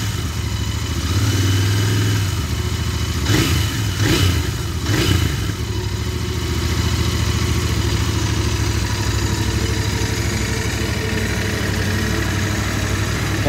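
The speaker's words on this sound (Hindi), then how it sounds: "जो इसकी एग्जॉस्ट की रोर है आपको बहुत ही बेहतर लगती है। This is the effect of A 270 degree crank." A Royal Enfield Interceptor 650 with a 270-degree crank idles close by, its exhaust a steady, loud low thrum, broken early on by a few quick throttle blips before it settles back to a loping idle.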